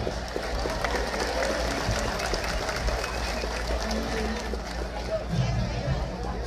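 Applause mixed with crowd chatter and voices at an outdoor patron saint festival in Pasaquina honoring San Sebastián, a steady dense wash of clapping and hubbub throughout.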